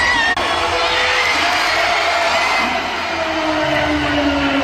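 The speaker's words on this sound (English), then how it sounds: "Hurts reportedly got the loudest cheers from the fans and also got MVP chants" A crowd of Philadelphia Eagles fans cheers for Jalen Hurts at training camp, a dense, sustained roar of distant voices and whoops that holds steady and loud throughout with no distinct talk.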